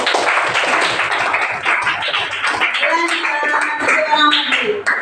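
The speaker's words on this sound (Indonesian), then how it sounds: "tepuk tangan dulu untuk Adi." Students in a classroom clap for a classmate, a dense burst of sharp hand claps that thins out as a teacher's voice takes over.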